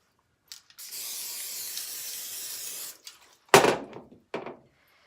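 Cooking spray hisses from a can onto keto biscuit dough in a steady three-second burst, followed by two shorter, sharper spritzes, all close and alone.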